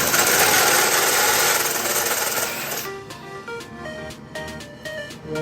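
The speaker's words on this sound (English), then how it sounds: "So we're just gonna keep drilling." A unibit step drill bit grinds loudly through a carbon fiber bucket seat shell for about three seconds, a harsh steady rasp, then cuts off and leaves only quieter background tones.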